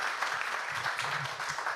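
Audience applause after a forum theater performance at a Zero HIV Stigma Day event, a dense, moderately distant clatter of clapping hands that holds steady throughout.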